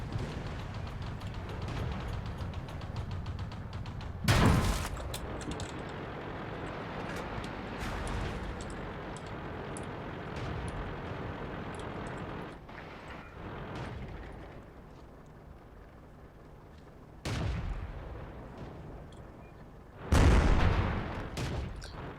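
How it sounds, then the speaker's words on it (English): Artillery fire in the tank battle game World of Tanks: three heavy, booming blasts, one early and two close together near the end, over a steady rumble of engine and battlefield noise. "There's artillery trying to shoot at me."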